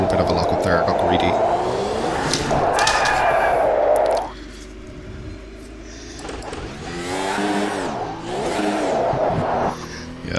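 A Formula 1 car engine in the F1 2022 video game revs loudly with rising and falling high-pitched whines through gear changes and a lock-up, while someone talks over it throughout.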